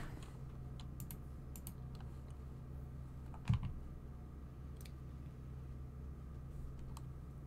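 Computer keyboard keystrokes during a gaming session, sparse scattered clicks with one sharper tap midway, faint and close over a low steady hum, no talk.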